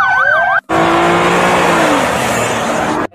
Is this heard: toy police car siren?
yes